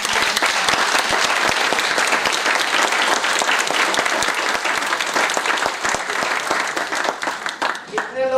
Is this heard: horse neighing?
no